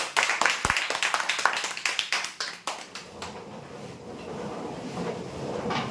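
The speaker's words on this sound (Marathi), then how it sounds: "जोरदार टाळ्या देण्यासाठी।" A small audience at a Marathi prize-draw event claps for a geyser winner. Sharp, distinct claps ring out at close range, then thin out into scattered strokes and fade to a low background murmur.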